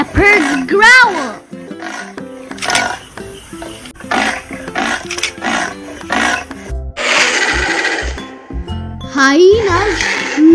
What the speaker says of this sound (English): Leopards growl.